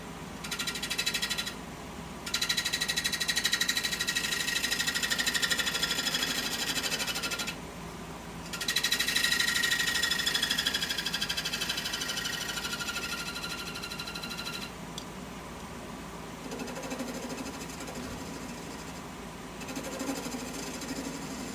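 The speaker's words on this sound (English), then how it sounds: "I'll make one pass with my bowl gouge just to flatten that off." A 5/8 bowl gouge taking a flattening pass on a wooden fence post spinning on a lathe gives a steady, loud scraping and whirring drone, with brief breaks near the start and a softer stretch toward the end.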